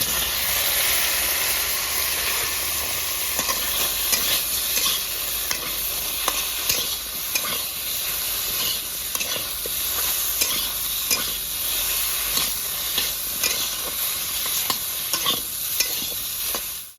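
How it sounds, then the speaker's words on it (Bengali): Chopped potatoes and taro fry in hot oil in a village-style kitchen, giving a constant dense sizzle with scattered crackling pops and faint scraping, close and loud with no voices. "আলু আর কচু ভেজে নেবো"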